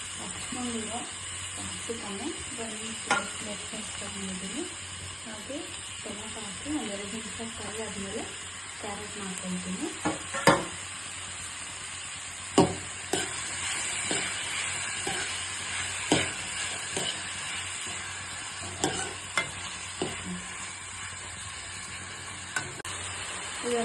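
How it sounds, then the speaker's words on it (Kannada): Onion fries in a pan with a steady, hissing sizzle and occasional sharp clicks and scrapes. A low voice murmurs faintly in the first half. "ಈರುಳ್ಳಿ ಒಂದು ಎರಡು ನಿಮಿಷ ಫ್ರೈ ಆದಮೇಲೆ"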